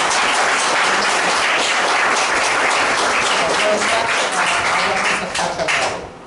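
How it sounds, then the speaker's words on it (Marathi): Loud, dense applause from a gathered audience at a career academy celebrating a student's bank selection, sustained clapping that fades slightly at the end. "तर जोरदार टाळ्या"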